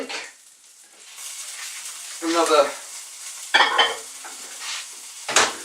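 Beans and pork frying in a frying pan, with bursts of loud sizzling and stirring against a quieter steady hiss and a few words of talk.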